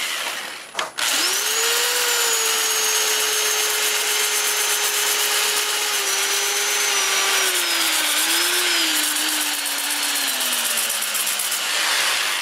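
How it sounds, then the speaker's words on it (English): 80-grit sandpaper pressed against a maple burl spinning on a wood lathe at about 450 RPM gives a steady, loud abrasive rush over a motor whine that slowly sinks in pitch, with no talking. "I might be able to sand this with it running."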